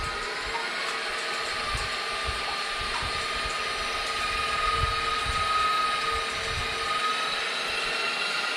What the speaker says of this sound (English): And then we'll start mixing your egg whites